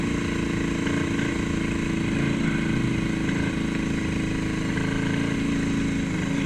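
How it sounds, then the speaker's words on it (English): A Yamaha XS1100 café racer engine with Speeduino fuel injection runs at a steady, held throttle and surges in a continuous, loud drone. The engine sound rises and falls unevenly, with no talk over it. "I'm holding throttle at the same spot and I'm surging like this."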